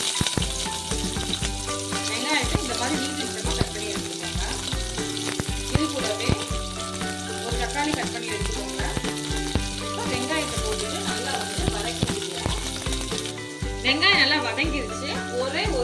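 Large chopped onion frying in hot oil for a barnyard millet vegetable biryani, a steady close sizzle running beneath louder background music.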